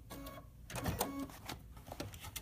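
A sewing machine stitches a decorative appliqué stitch in quick, uneven mechanical bursts of clacking and whirring, close and fairly quiet, with brief pauses between runs.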